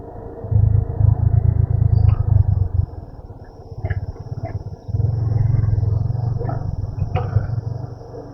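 A vehicle creeps downhill on a muddy mountain road toward Lachung, its engine rumbling low and steady in two long stretches, broken by a quieter lull with faint clicks and knocks.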